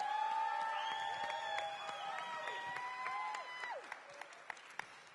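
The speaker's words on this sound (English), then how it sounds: "Give them a big round of applause." A crowd at a high school detention Q&A event claps and cheers, with whoops and shouted voices layered over the applause that tapers into scattered claps near the end.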